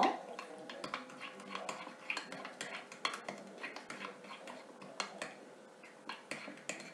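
A spoon scrapes and clinks against a bowl while whole-milk yogurt is mixed, giving a steady run of soft, close, irregular taps and scrapes with no talking.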